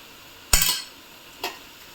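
Vada of urad dal batter frying in hot oil, with one loud crackling burst followed by a second, shorter sizzle, close and clear against quiet kitchen background.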